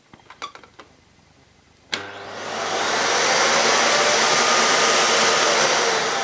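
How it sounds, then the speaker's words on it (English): After a few small clicks and a sharp button press, a Miele S4780 cylinder vacuum cleaner starts up, its motor rising over a second into a loud, steady whooshing roar that continues alone. "the cleaner switches on when you press that button in"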